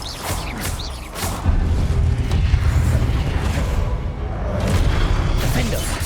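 Confringo spell blast in Hogwarts Legacy: a fiery magical explosion with booming low rumble and whooshing bursts, rolling continuously through several seconds of loud combat noise.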